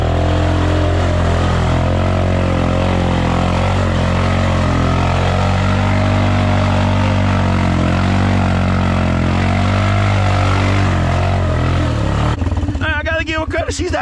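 Four-wheeler ATV engine running while ridden through mud, a loud continuous droning roar with shifting pitch close to the rider, ending in a burst of rattling and wind noise.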